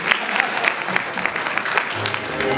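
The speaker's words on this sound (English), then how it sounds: "Please, a resounding applause for Dr. Godwin Maduka, please." An audience at an African cultural festival applauds, a dense, loud, sustained wash of clapping that holds steady throughout.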